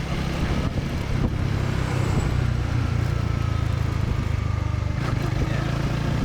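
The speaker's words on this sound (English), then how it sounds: "We're going on our daily commute on truck." A manual-transmission truck rolls along a daily commute through Da Nang, its engine droning steadily up close with continuous road and traffic noise and no voices.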